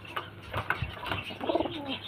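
A female pigeon at close range gives soft, low throaty coos, a few rounded pulses over a quiet background.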